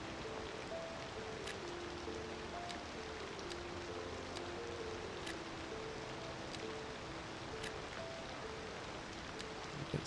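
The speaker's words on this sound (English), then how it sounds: "The rain's coming in." Steady rain falls across a city in Cities: Skylines 2 as freezing weather sets in, a continuous soft hiss with scattered light drops and faint ambient city tones, no voices.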